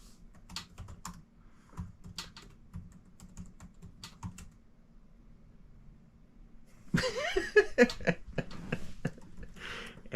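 Keyboard typing as a username and password are entered on a Wi-Fi router setup page, short bursts of soft key clicks in a quiet room, then louder, busier tapping near the end.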